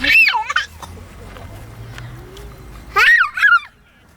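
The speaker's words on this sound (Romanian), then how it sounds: "Uite păsărica, cip-cirip." Turkey-like gobbling calls from a bird met on a family walk, two loud close bursts of warbling, wavering cries separated by a quiet stretch.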